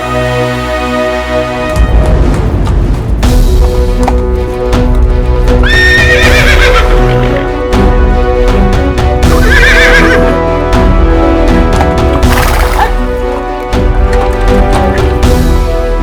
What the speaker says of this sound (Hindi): घोड़ा पागल हो गया, कोई पागल ही इसे ठीक कर पाएगा।